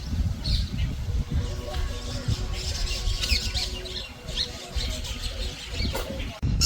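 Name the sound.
birds chirping at Pij Lake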